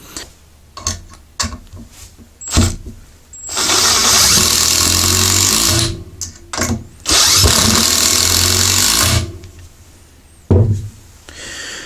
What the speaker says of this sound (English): This is the newer brushless impact driver.